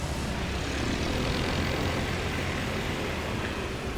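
A STOL aircraft's engine drones at a steady, moderate level during short takeoff and landing practice at Jennings, Louisiana, a broad continuous roar with no talk over it.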